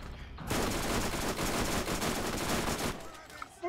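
Sustained rapid SMG fire from Borderlands, a dense continuous burst of shots lasting about two and a half seconds, loud and close, then cutting off into quieter game sounds.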